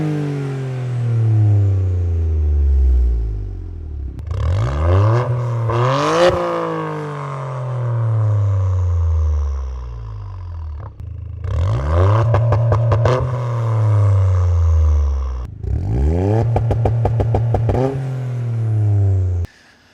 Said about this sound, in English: no, the exhaust sounds great.